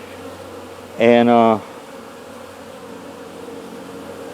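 Honey bees buzz in a brief, loud burst of about half a second at hives being fed dry sugar in South Carolina, with faint background hum before and after; a voice says a single word.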